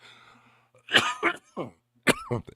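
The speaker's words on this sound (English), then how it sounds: "And yes, I still have this cough." A few harsh, close coughs in quick bursts, with a throat-clearing rasp, alone without talk.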